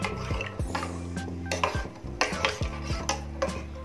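A spoon stirs peas boiling in a pot on a gas stove, a series of close metallic scrapes and knocks against the pot, repeating irregularly over a steady bubbling hiss.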